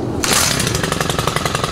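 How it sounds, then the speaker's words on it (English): A chainsaw is choked, primed and pull-started during deck demolition. A sharp start gives way to a loud, steady engine with a rapid pulsing rhythm, heard up close with no talk. "This is how you warm up a nice chainsaw."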